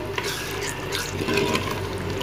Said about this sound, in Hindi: अब हम मसाले को अच्छे से भूनेंगे